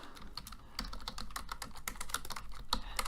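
Rapid typing on a computer keyboard while setting up a beginner C++ programming project, with close, clattering keystrokes in quick uneven bursts and no one talking.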